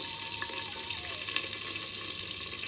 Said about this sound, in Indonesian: Digoreng dugikeun kalayu.